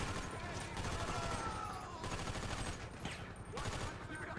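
Sustained bursts of police gunfire in a video game, rapid overlapping shots like a fusillade, fairly loud and continuous with brief dips, with some faint voice activity mixed in.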